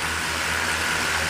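DJI Mavic Air 2 drone fitted with Master Airscrew Stealth propellers, motors idling while stationary on a table, heard as a close, steady whirring hum with a broad airy hiss, no talk.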